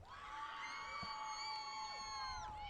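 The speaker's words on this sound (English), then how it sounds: "a good cheer from the Wilsonville bench to their team on the field, encouraging them on" A team bench cheering from the sidelines during the second half of the Wilsonville vs. Lake Oswego girls' lacrosse semi-final, a sustained chorus of high shouts and whoops over crowd noise, steady for a few seconds then tapering off.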